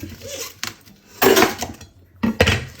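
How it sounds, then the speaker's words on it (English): A knife cuts the thick stem from a halved cauliflower on a board, giving two or three sharp, close knocks and crunches with short pauses between them. "we just chop out the big stem bit at the bottom, just like that"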